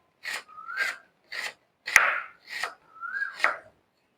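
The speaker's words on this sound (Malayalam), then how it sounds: "അപ്പോഴേക്കും നമുക്കിത് ഈ സബോള ഒക്കെ അരിഞ്ഞിടുക." Onions are chopped on a board with a knife, giving six crisp separate strikes in an uneven rhythm, close and clear, with quiet pauses between and no talking.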